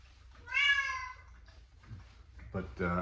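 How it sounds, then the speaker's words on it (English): Rocky, a pet cat, gives one drawn-out meow close by, followed after a pause by a second, rougher meow. The sounds come over a quiet room hum. "it's my cat Rocky. I don't know why he's acting up"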